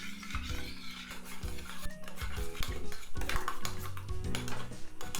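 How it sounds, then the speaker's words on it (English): A spoon scrapes and clanks around a pot as a thick kimchi paste mixture is stirred over medium heat. The metallic scraping and knocking is steady and close and continues throughout, with no voices. "You want to keep mixing this,"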